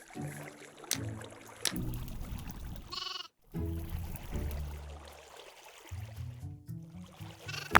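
Several Minecraft sheep bleat in bursts, loud and close, separated by short gaps, with a brief hiss in the middle and no talking.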